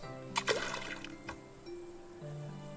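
Water being collected and splashed in the medieval survival game Medieval Dynasty played in VR, with a couple of close splashy bursts early on followed by softer sloshing and trickling against a steady tonal background.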